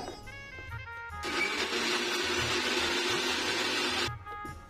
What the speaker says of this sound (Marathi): आपल्याला हे पूर्ण जिन्नस वाटून घ्यायचे आहेत